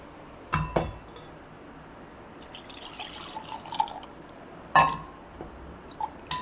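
Water is poured and splashes in a kitchen while tamarind is rinsed for a bitter gourd curry, giving a few sharp splashes and drips with light clinks against a quiet background.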